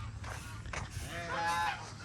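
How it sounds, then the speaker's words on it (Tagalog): Geese honk repeatedly on a farm, several harsh nasal calls overlapping at close range over a steady low background hum. "Yung aking gansa, itlugan ng gansa kahapon,"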